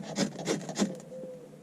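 Scraping strokes for fire lighting over a tinder nest bound with string, three loud rasping sweeps in steady rhythm, then a quieter fading scrape with a faint thin tone, close by and with no talk.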